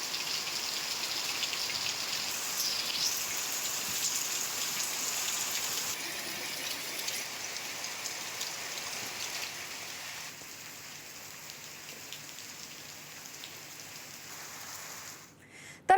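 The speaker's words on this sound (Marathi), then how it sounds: "दक्षिण रत्नागिरीत देखील मान्सून पूर्व पावसाच्या दमदार सरी बरसत आहेत" Heavy pre-monsoon showers fall in southern Ratnagiri in May as a dense, steady hiss of rain on surfaces, fairly close, easing slightly toward the end, with no voices.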